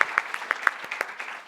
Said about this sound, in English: Round of applause for our volunteers.